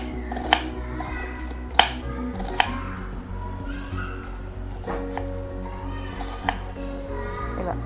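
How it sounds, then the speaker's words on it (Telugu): A knife chops two onions into thin pieces on a board, giving a few sharp, spaced knocks over a steady background hum, close by, with no talking. "ఇవి 2 ఆనియన్ సన్నగా పీసెస్ కట్ చేసుకున్నాం"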